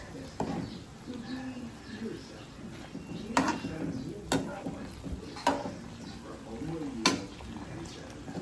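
A spoon stirs chicken adobo in a pot, with soft scraping and sloshing under a quiet simmer and several sharp clinks of metal against the pot rim, close by.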